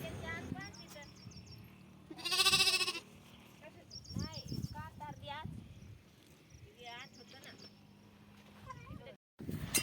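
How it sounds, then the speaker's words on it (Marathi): Goats kept by herders on a farm give several loud, wavering bleats, one especially long and close, while people talk nearby. "सो ही त्यांची बकरी आहे आणि इथं ते"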